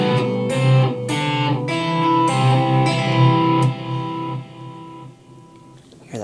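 An electric guitar played through a Fender Mustang 2 amp with an echo effect, giving sustained melodic notes with repeats trailing behind them. The notes are loud and close, and the echo fades out toward the end.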